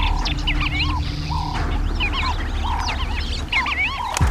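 A flock of Namaqua sandgrouse and Cape turtle doves gathers at a small water pan, filling the air with dense, overlapping chirping and burbling calls that repeat continuously over a steady background hum.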